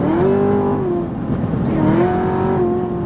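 A 1000 hp Chevrolet Camaro ZL1 track edition accelerates hard with a loud, steady engine roar from inside the cabin, the pitch climbing then dipping briefly at a shift before rising again.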